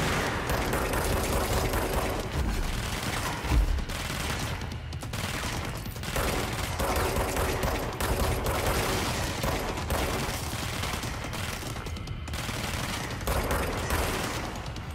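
A pistol fires in the video game Control, dense rapid gunshots and crackling bursts packed together across a loud, busy action scene with no let-up.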